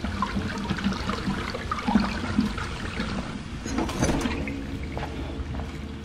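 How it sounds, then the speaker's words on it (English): Liquid pouring in the video game Outlast Trials, heard as a steady watery gush with gurgling and trickling that runs throughout, fairly loud, over a low ambient rumble. "Alright, I'm pouring this one in."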